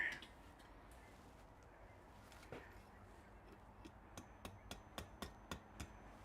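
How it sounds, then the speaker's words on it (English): Hot metal is hammered in a smithy: after a quiet, faintly noisy stretch, a run of about seven sharp, evenly spaced hammer strikes rings out at a moderate distance. "The rest of that I will do with the hammer."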